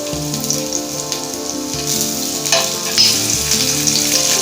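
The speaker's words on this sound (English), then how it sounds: "So we have to refry this in the oil along with some onions and a teaspoon of ginger garlic paste." Onions and empanada filling fry in hot oil with a steady, close sizzle and occasional stirring scrapes, loud and continuous with no talking.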